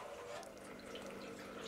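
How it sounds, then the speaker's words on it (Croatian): Okra is rinsed in water, with soft sloshing and trickling at low level and no talk. "Sad ću ja iz ove vode saprati."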